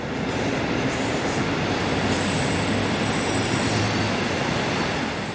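East German class 219 diesel locomotive number 219056 rolls in from Saalfeld near Gera, a loud, steady rumbling drone with wheel noise on the rails and no talk.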